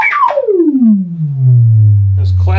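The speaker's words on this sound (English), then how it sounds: "you can get those kind of 80s drum effects" Moog Source synthesizer playing an 80s-style synth drum, a loud tone sweeping steeply down in pitch into a low sustained hum, with a short attack returning at the end.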